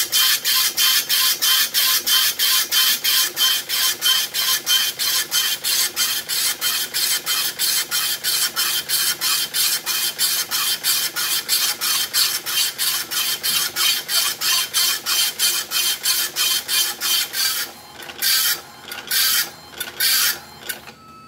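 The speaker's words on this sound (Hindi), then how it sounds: "प्रिंटर अपना रेडी हो चुका है एकदम प्रिंट भी क्लियर है" An Epson LX-310 dot matrix printer, recently serviced for a ribbon problem, prints loudly and close with a fast, steady rapid-fire buzz of print-head strikes, then several shorter bursts and pauses as the carriage moves near the end.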